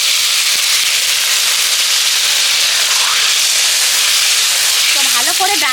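Water poured into a pan of sautéed masoor lentils and pointed gourd sets off a loud, continuous hiss and sizzle of steam that fills the whole moment up close.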